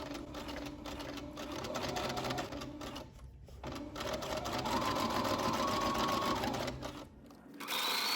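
A sewing machine runs steadily, stitching a corner seam on a front zipper skirt, its fast mechanical chatter loud and close, pausing briefly mid-run and easing off near the end.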